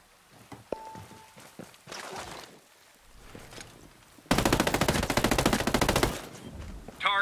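Gunfire in Ghost Recon Breakpoint: after scattered quieter shots and clicks, a loud sustained automatic burst hammers for about two seconds, then a brief further burst near the end.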